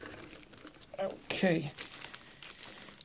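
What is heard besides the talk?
unboxing Logitech K480 keyboard, packaging crinkling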